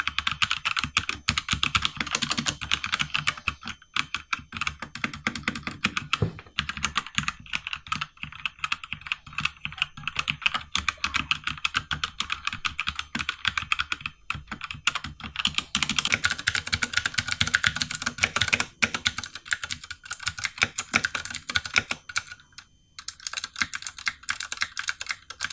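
Typing on a Drevo Gramr 84-key mechanical keyboard with brown switches, a steady close stream of quick clacking keystrokes with occasional pauses, alone and fairly quiet.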